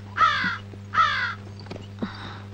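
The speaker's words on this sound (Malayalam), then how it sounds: "കാക്ക അങ്ങനെ ചുമ്മാ വിരുന്ന് വിളിക്കത്തൊന്നുമില്ല" A crow caws three times outdoors on a hillside in a Malayalam drama scene. The calls are distinct and moderately close, with a steady low hum underneath.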